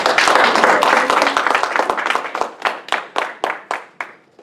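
A church congregation bursts into dense applause that gradually thins into scattered, separate claps as it winds down over a few seconds, fairly close and loud.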